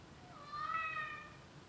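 Tuco, a pet cat, lets out one fairly faint, rising-then-falling meow over a steady background hum indoors.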